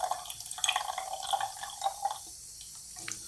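Water streams and drips from a portable rechargeable water flosser into a container, an uneven splashing trickle with small drips, close and fairly quiet, tapering off toward the end.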